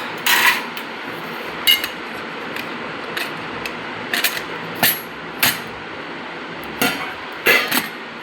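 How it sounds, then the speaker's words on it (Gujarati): Metal cookware clatters and clinks in a home kitchen as a pressure cooker is opened, with about a dozen sharp, close knocks and scrapes coming at irregular intervals and no talk. "કુકર ખોલ."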